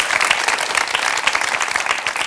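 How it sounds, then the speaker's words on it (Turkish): Applause from a television talk-show studio audience, a dense steady patter of many hands clapping at once, fairly close and even in loudness throughout, with no talk over it. "Bir alkış."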